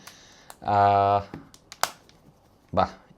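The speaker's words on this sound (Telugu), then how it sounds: "ఈ సౌండ్స్, ఈ బ్యాటరీ ప్లేస్ చేసేది విని చాలా చాలా చాలా కాలం అయిపోయింది." A battery is fitted into the slot of a Nokia 5710 XpressAudio phone, giving several sharp plastic clicks and snaps spread across a few seconds, with a brief voiced hum between them, all close up.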